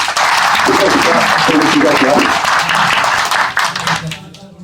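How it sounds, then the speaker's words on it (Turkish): A crowd at a Turkish gathering applauds an editor being invited up, loud and steady clapping with voices murmuring beneath it, fading out near the end as the hall quiets. "Bir alkış istiyorum"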